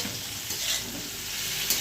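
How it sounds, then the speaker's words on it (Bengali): Potatoes seasoned with salt and turmeric sizzle in a hot pan while being stirred, a close continuous frying hiss with soft scraping movements and no talking. "নুন হলুদটা ভালো করে মিশিয়ে নেড়ে দিতে হবে"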